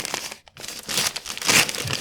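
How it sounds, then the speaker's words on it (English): Paper gift wrapping being torn open: loud, close crinkling and ripping in quick bursts, with a brief pause near the start and a stronger tear toward the end, with no voices. "Let's rip into this."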